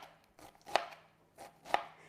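A knife chops onion finely on a board: two sharp, close strikes about a second apart stand out above fainter, softer cuts, with no talking.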